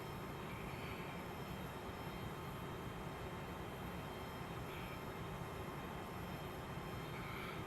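Challenger 300 business jet engines in X-Plane 11 being throttled back at altitude, a steady broadband cabin roar with a low rumble, continuous and unchanging.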